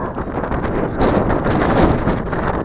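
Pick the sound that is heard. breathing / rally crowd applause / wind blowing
wind blowing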